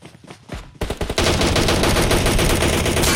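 Rapid automatic gunfire in the mobile battle-royale game PUBG Mobile during a tournament match, dense loud bursts that start after a brief quieter opening and then run continuously.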